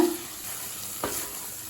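Tomatoes sizzle quietly in a pan with a steady frying hiss, and a brief stirring scrape cuts in midway.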